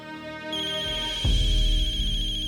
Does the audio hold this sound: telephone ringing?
yes